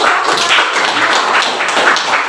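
Students in an Indonesian language classroom clap together, a dense, steady patter of many hands sustained throughout at close range with no talk over it.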